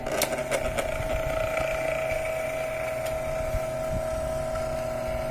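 An Astron electric fan running noisily with its motor dry of oil, giving a steady droning hum with a sustained whine, plus a few sharp clicks near the start.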